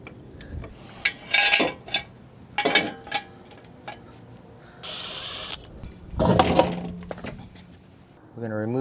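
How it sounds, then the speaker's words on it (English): Wrench work breaking exhaust nuts loose on a 2019 RAM 1500 with a 5.7 Hemi, with bursts of metallic clanks, ratcheting and tool clinks, a hissing spray, and someone talking between the bursts. "We're just gonna break the bolts loose, or the nuts, and then jack it up."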